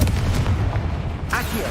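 A Confringo spell explodes in the video game Hogwarts Legacy as a short, heavy rumbling boom that ends in a sharper crack.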